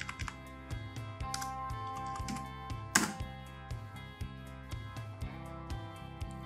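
Typing on a computer keyboard into a browser search, a steady run of close key clicks and taps at an even pace over a low background hum, with one sharper louder keystroke midway.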